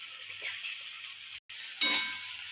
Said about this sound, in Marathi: कांदा आपला भाजलाय मस्तपैकी. मी आता फिरवून घ्यायला लागले.